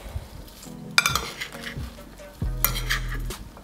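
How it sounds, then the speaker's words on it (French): Spoon stirs lemon-dressed salad in a small bowl, producing close, quiet scraping and clinking against the bowl, with brief bursts of louder stirring and utensil taps. "On mélange."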